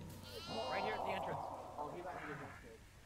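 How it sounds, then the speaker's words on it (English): A goat bleats in the horror video game Devour, a short wavering cry over steady background noise while players talk. "Oh, there's a goat right here."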